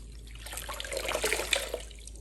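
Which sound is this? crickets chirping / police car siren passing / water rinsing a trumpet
water rinsing a trumpet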